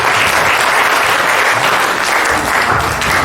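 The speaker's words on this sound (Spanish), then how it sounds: "Un aplauso para ustedes." Loud, dense applause from an audience honoring students at the close of a SENA environmental monitoring technician event, steady sustained clapping filling the whole stretch with no break.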